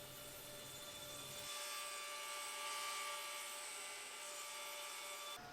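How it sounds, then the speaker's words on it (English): A table saw squares a construction-lumber seat blank, giving a steady high whine with a brief lower cutting growl at the start, then a continuous faint-to-moderate spinning hum. "I then brought the seat blank over to the table saw to make it square"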